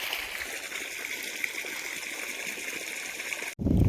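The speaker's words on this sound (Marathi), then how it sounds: "झालं पाणी चालू आपलं आता आता येते पाणी हळूहळू खाली" Water runs from a hose pipe in a steady, moderate rushing trickle that stops abruptly near the end, replaced by a brief low thump.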